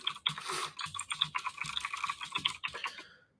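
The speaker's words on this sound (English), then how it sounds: "You can hear my loud keyboard." Rapid typing on a loud mechanical computer keyboard, close and crisp, with clattering keystrokes in quick irregular bursts that trail off at the end.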